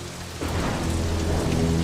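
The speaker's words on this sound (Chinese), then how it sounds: "下雨了" Steady, fairly loud rain pours down, a dense hiss of drops on surfaces with a low rumbling undertone, starting abruptly and continuing without pause.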